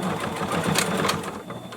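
A sewing machine stitches a straight fabric seam on a cloth face mask, its motor humming in a steady, close whir that runs without a break for about two seconds.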